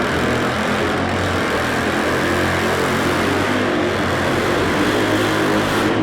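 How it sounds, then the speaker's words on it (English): A parallel-twin drag-racing motorcycle doing a burnout at a drag-racing world finals event, a loud, sustained raw engine roar with tire noise, steady throughout and without talk. "Yeah, that's a burnout."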